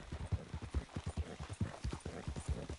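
Horse hooves clip-clopping steadily on a road in Red Dead Redemption 2, an even walking rhythm of distinct hoof knocks, clear and close, with no talking over it.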